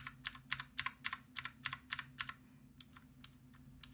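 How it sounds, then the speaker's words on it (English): Keys clack on a Zero X08 mechanical keyboard fitted without rubber O-rings, a quick regular run of about a dozen sharp, close presses followed by a few slower, spaced strokes in a quiet room. "So this is how a normal key sounds like,"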